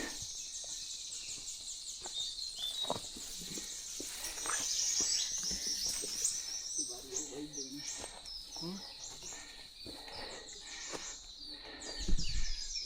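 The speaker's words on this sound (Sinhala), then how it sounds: "ඔයාලට ඇහෙනවද කුරුල්ලන්ගේ සද්දේ?" Forest birds at Namunukula in Sri Lanka, the woods fresh after rain, chirping and trilling in quick high bursts throughout, fairly faint and distant, while people talk nearby.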